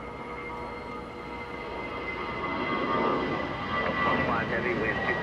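An airliner taxiing at Los Angeles International Airport, its engines a steady droning rumble that swells slightly toward the end, with faint radio or commentary murmuring underneath.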